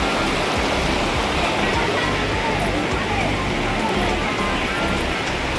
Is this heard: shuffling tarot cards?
no